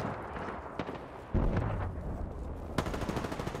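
Gunfire in the video game Apex Legends, starting with a sharp heavy shot and rising to a rapid automatic burst of loud, close shots.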